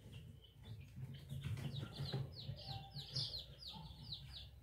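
Indian Giant chicks peep in rapid, high-pitched repeated calls that grow denser toward the end, over faint low background noise and rustling, heard fairly close but at low volume.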